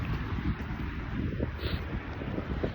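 Steady, blustery, cold wind buffets the microphone with low rumbling gusts, loud and continuous throughout.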